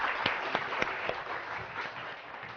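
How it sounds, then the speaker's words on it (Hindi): A studio audience at a morning TV show claps and applauds steadily after a children's fashion show, a dense wash of hand claps with a few sharper claps standing out, moderately loud. "तालियां बजा दो यार"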